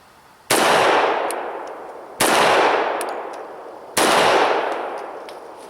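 Three loud, sharp shots from an FNX-45 Tactical pistol go off close by at about 1.7-second intervals, each followed by a long reverberating echo that fades slowly.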